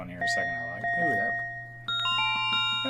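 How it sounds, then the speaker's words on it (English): Bright bell tones from a synthesizer bell preset in Reason ring out in a few struck notes, each sustaining and decaying with shimmering overtones, close and clear. "I'm just going to grab this bell sound"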